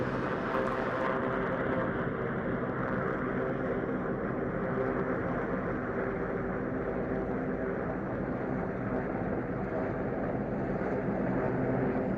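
A search and rescue helicopter holds over an air show display, its engine and rotor making a steady, loud, unbroken roar throughout.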